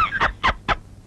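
A chicken clucking, three short loud squawking calls in quick succession, close and alone with no talk.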